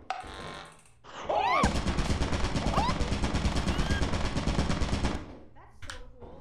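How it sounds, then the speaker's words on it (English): A turret in Lethal Company rattles off a sustained rapid burst of gunfire lasting several seconds, loud and relentless, with brief voices before and after. "That's a gun. That's a turret."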